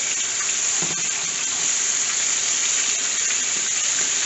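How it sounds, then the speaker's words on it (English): Snapper fillets shallow frying in a pan while hot oil is spooned over them, giving a steady, close, hissing sizzle with a faint watery pour running underneath throughout. "I like to keep pouring the hot oil on top of it so that it stays crisp"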